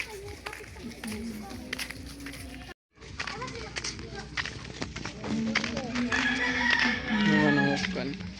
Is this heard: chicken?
yes